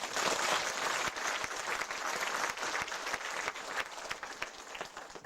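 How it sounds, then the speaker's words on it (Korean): A church congregation at a building dedication service claps steadily and loudly for several seconds, a dense wash of applause with no talking. "박수 한번 칩시다"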